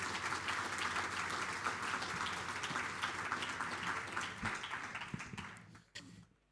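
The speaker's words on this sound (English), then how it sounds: "Let us give the Premier a round of applause for hosting us." An audience at an education awards ceremony in the Premier's home applauds the Premier, a steady wash of clapping that thins into a few scattered claps before dying away.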